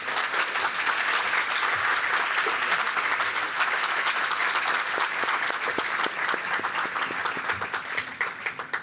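An audience at a campus freedom of expression event applauds steadily and loudly for several seconds as the speaker comes to the stage.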